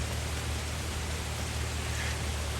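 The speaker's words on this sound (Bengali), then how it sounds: "আজকে হচ্ছে বেশ ভালো বৃষ্টি চলতেছে, ভালোই বৃষ্টি হতেছে ভাই" Heavy rain falling steadily, a dense, even hiss of downpour with no pauses, filling the whole scene on its own.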